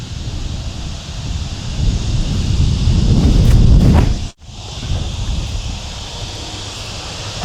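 Outdoor headwind buffets the microphone with loud, steady low rumble and hiss on a disc golf field; it briefly cuts out about midway, then resumes.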